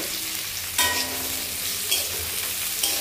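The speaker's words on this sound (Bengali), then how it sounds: "একটু হালকা করে ফ্রাই করে নিচ্ছি।" Tomato and capsicum frying lightly in a pan for pasta, a steady close sizzle that jumps louder as the vegetables go in, with soft stirring scrapes and no talking.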